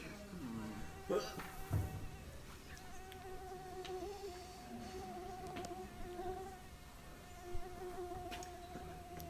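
A thin, steady mosquito whine hums at a constant pitch through most of the stretch at a campsite, with faint outdoor rustles and a few soft knocks underneath.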